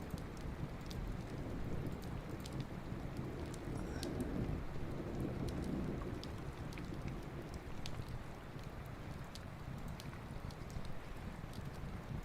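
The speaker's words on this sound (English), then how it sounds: "Wow, it's a big thunderstorm." Big thunderstorm with steady rain, a soft continuous hiss of falling drops with a faint low rumble swelling midway, heard quietly at a distance with no talk.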